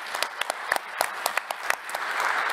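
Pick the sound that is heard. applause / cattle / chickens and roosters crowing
applause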